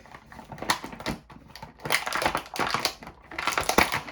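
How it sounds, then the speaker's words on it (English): Crinkling, tearing and crunching of plastic and cardboard action figure packaging in several bursts, close by, with brief pauses between. "if you've ever opened a figure before, you'll understand it's not easy to do that quietly"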